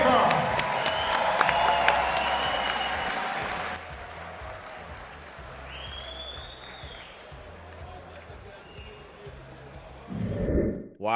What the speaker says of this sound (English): Come on, give a big Fight Club applause.